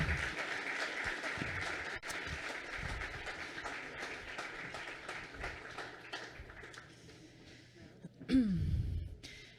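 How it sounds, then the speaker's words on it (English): Audience at a sustainability summit applauding a panel, a steady wash of clapping that runs for several seconds and tapers off, with a louder burst of sound near the end. "Let's give them a round of applause."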